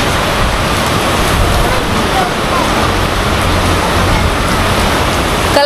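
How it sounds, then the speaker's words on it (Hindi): Heavy rain pours down steadily and loudly, a dense continuous roar of water hitting surfaces close by, with no break for the whole stretch. "बहुत तेज पानी बरस रहा है, बहुत तेज बारिश हो रही है"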